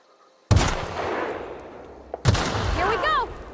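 Gunfire in a video game, two sudden loud bursts of shots each trailing into rumbling echo, the second followed by whistling, chirping effects.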